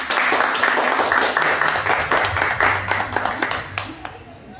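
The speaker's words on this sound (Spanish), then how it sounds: "Los artistas, un aplauso por favor." Audience clapping for artists at a tribute event for Duitama folk art, a steady burst of hand claps that thins into scattered claps and fades out.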